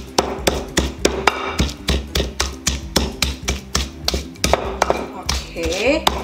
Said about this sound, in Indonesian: Kalau kalian pengen lebih halus, tinggal kalian tumbuk halus.